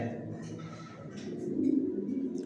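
Pigeons coo in low, rolling murmurs inside a new loft, a soft continuous chorus that swells slightly toward the end, with a faint voice in the background.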